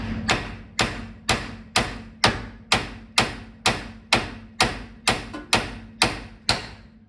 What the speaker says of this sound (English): So what you need to do here is hit it with a hammer, and it's supposed to separate on its own.